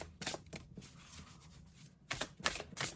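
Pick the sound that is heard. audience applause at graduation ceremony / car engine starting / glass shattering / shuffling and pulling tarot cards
shuffling and pulling tarot cards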